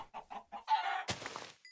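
Chickens in a video game cluck in a quick series of short clucks followed by a longer, squawking cackle, close and clear with no talking.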